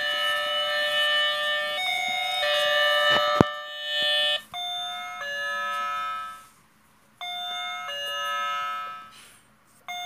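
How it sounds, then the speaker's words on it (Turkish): An electronic doorbell plays a loud, multi-tone chime melody in repeated bursts with brief gaps between them, close and clear, with no talking. "Evet arkadaşlar böyle çalıyor zilimiz"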